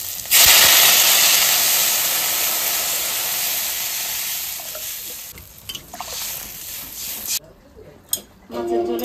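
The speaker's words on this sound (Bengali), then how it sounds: "এবার আমি জল দিয়ে দেবো।" Water hits a hot pan of spiced potatoes with a sudden loud hiss and sizzle that slowly fades, followed by scattered clinks and scrapes of stirring and a faint voice.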